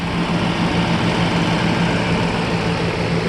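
A 1995 Mercedes S600 coupe engine idles with a steady, low rumbling drone, constant and fairly loud throughout with no talking.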